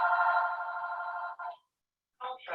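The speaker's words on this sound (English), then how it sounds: "Oh, I hate this when the phone rings." A mobile phone ringtone sounds loud and steady for about one and a half seconds, stops briefly, then starts again.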